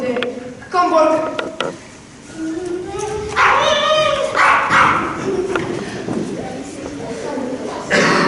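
An excitable dog yips, whimpers and barks in short bursts during a Year 6 school production, mixed with people talking and stage commotion nearby.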